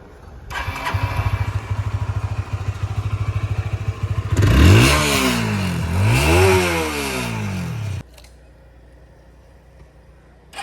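A Honda CBR 250R Repsol edition motorcycle idles with a steady engine putter, then revs up sharply twice in rising and falling surges, close and loud, before the engine cuts off.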